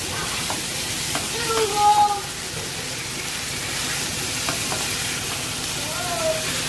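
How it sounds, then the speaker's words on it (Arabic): Quick stirring of frying food in a pan, a steady close sizzle with scraping utensil strokes throughout, no talking. "نقلب بسرعه عشان ما تغمقش اهو"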